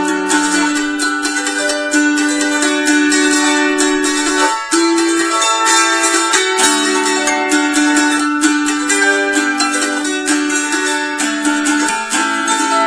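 An autoharp is fingerpicked in a steady alternating Travis-picking pattern, bright plucked strings ringing over a bass note that changes now and then, with no talking.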